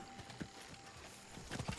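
Horse hooves clip-clop in the video game Diablo 4, a soft, uneven run of muffled footfalls at a distance under faint game ambience.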